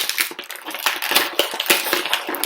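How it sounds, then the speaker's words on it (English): Crinkly plastic packaging crackles and rustles close up while an AEW Unrivaled wrestling figure is unboxed, a dense run of sharp crisp crunches and clicks with no talking. "I apologize for the plastic noise."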